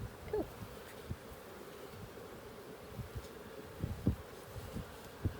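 Honeybees hum inside an opened hive, a steady low droning buzz with occasional louder passes of individual bees close by.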